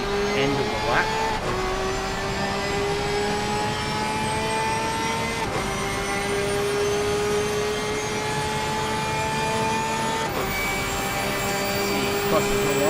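A Porsche race car in Assetto Corsa Competizione howls around the Monza circuit, its engine droning steadily and loudly with brief pitch drops at gear shifts, under a continuous talking commentary.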